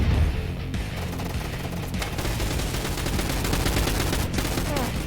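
A twin-barrelled shotgun in the Roblox gun fight arena game fires two rounds with each pull, producing rapid, dense bursts of loud gunfire that run on continuously.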